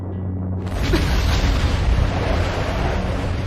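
An anime castle being blown apart, a huge explosion that bursts in after half a second of low rumble and then holds as a loud, dense, roaring wall of noise to the end.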